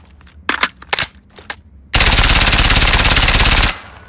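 Several sharp separate clicks and pops come first, then a 9mm M4A1 unleashes a loud, close, continuous full-auto burst lasting almost two seconds before stopping cleanly.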